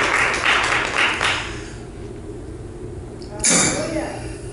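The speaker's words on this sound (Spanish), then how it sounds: "Dale el aplauso al Señor." A church congregation at a Spanish-language service claps in a short burst of applause that fades under a loud voice, with speech running over and after the clapping.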